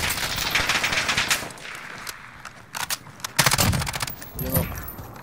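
Gunfire in the video game Call of Duty: Warzone, rapid bursts of automatic shots with metallic clinks, loud and close, mixed with jangling gear and footsteps and brief pauses between volleys.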